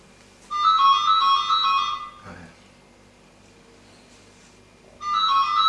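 A telephone ringtone sounds indoors in two loud, melodic bursts, one from about 0.5 to 2 seconds and another starting near 5 seconds, with near-silence between them.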